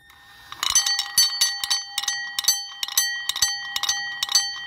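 A drill slowly spins a Warn mechanical backup alarm so its internal balls repeatedly smack the bell, producing a steady series of loud, close, metallic rings with lingering tones.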